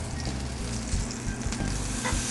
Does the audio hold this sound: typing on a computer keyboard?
no